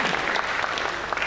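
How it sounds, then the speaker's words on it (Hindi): Studio audience applause at a talk show, a short steady burst of dense clapping that fills the whole moment with no voices over it. "तालियां भाई, तालियां।"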